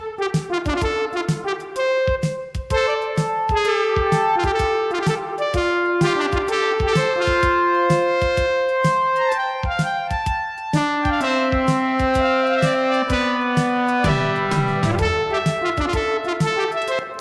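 Three layered instances of the Arido additive synthesizer play a rhythmic pattern of sharp chords and sustained tones, bright, steady and upfront with no voices.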